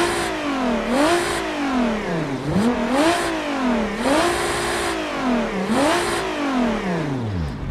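Custom car engine with turbo in the BeamNG.drive video game revving repeatedly, rising and falling in regular swells about every 1.5 seconds, with a hissing turbo whoosh bursting out at each peak, loud and clear without talk.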